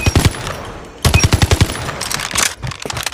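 A Vargo-S gun in a video game fires in fast automatic bursts, loud and close, with a brief break after the first burst before a longer sustained string of shots.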